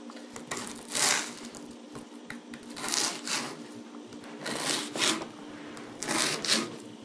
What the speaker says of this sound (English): Cut it into cubes